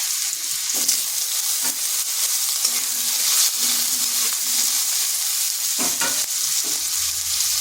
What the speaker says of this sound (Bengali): এরপর ওই তেলের মধ্যে দিয়ে দিচ্ছি একটা মিডিয়াম সাইজের আলুকে